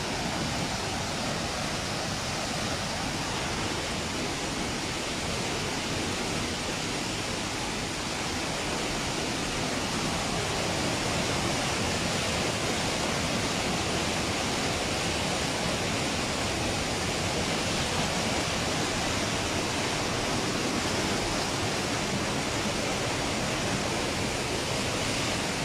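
The Nututún river in Palenque rushes in a strong flood current, a constant dense roar of water that is steady and unbroken for the whole stretch with no voices.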